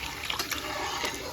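Cooking water drained from boiled puran, the sweet lentil filling for puran poli, pours steadily and close by in a home kitchen, a continuous splashing rush with no speech.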